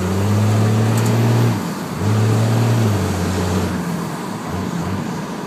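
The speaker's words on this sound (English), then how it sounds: "just trying to show you what the truck sounds like" A 2000 Cummins diesel truck with no muffler accelerates loudly, its deep engine drone rising in pitch, dropping briefly around a gear change, then climbing again.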